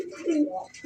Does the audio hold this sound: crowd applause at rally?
no